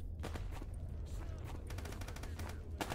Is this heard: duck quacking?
no